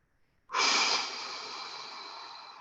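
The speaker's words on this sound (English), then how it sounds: "So I'm going to exhale." A single long exhalation during an evening meditation, starting abruptly with a strong breathy rush of air, then easing into a softer, steady outflow of breath for about two seconds, close and clear with no talking.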